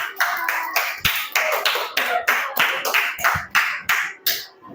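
A class of fifth-grade children clap their hands together in a steady rhythmic pattern, about a dozen sharp, loud group claps evenly spaced, with no talking over them.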